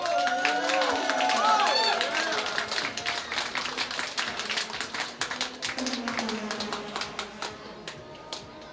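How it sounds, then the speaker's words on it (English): An audience at a robot combat competition claps steadily, a dense patter of hands that thins and fades toward the end, with some voices and chatter mixed in. "can we just give a round of applause for these 4 amazing robots?"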